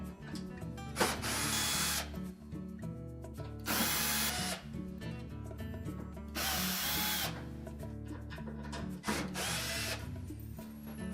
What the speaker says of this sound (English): Now we'll go ahead and remove the rest of the screws that secure that back panel.